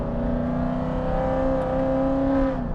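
A 2023 Chevrolet Corvette C8's engine revs close by at a loud, steady, humming pitch that rises slightly toward the end, with no talk over it.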